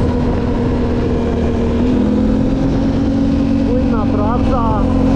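Yamaha MT-07 motorcycle engine running steadily at a motorsport gathering, a loud continuous hum with a steady low drone throughout, and a brief rise and fall in pitch near the end.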